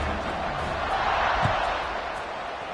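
Stadium crowd at a college football game, the Hurricanes about to kick off: a steady, loud wash of many voices and roar filling the space, with no single voice standing out.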